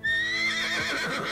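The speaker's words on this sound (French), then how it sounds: "Son cheval hennit derrière elle." A horse whinnies loudly and close, a high shaky neigh trailing off, with faint hoof shuffling underneath.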